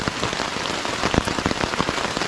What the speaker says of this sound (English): we'll see you in a couple hours when this rainstorm stops